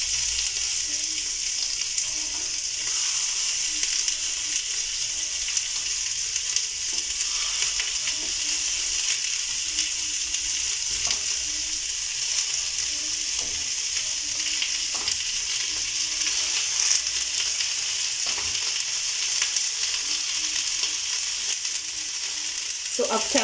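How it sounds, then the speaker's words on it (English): Chicken mishkaki skewers sizzle and fry steadily on a hot surface, a continuous close hiss of fat and juices with small pops throughout, no voices. "So you can feel it sizzling."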